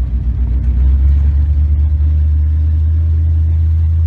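A Baja 272 Islander boat engine with a captain's call exhaust throbs with a loud, steady low rumble close by, rising slightly before settling into an even drone.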